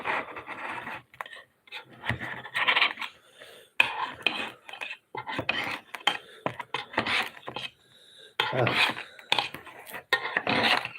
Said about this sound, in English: Taking out these pans.